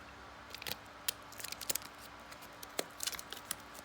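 Scissors snip through SanDisk SD card packaging in a quiet room, a series of short sharp clicks and cuts spaced irregularly, close and fairly faint.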